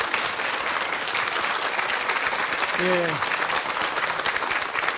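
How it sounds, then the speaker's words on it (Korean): A television talk-show studio audience applauds to welcome a doctor, with steady, dense clapping filling the room and a brief voice speaking over it. "박수로 맞이해 주시기 바랍니다."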